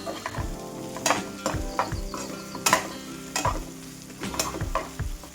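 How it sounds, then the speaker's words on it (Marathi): Eggplant bharit being stirred and mixed with fresh coriander in a pan, a series of scraping, clattering spoon strokes with a faint sizzle underneath, close and fairly loud, no talking. "त्यामध्ये कोथिंबीर टाकून घेऊ, हे सगळं मिक्स करून घेऊ।"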